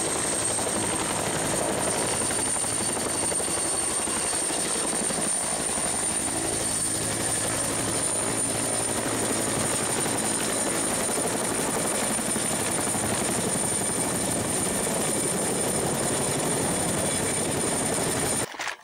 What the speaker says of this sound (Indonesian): Ini ada helikopter.